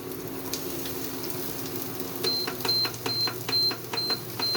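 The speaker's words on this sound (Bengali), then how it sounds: "ভালো করে একটু পেঁয়াজটা হালকা করে ভেজে নিই।" Onion frying lightly in oil in a pan after a tempering of dried chilli and black cumin, a steady broad sizzle with a run of regular clicks or taps near the end, close and moderately loud, no talk.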